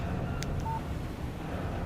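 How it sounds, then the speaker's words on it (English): A phone text message notification in the Alan Wake video game, a short electronic chime or beep heard once over a constant low background hum. "Text message from Barry"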